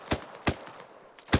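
Three sharp gunshots crack out in a Desert Storm combat video game, evenly spaced at first and then after a short gap, each loud and punchy with a brief tail over a low background hum.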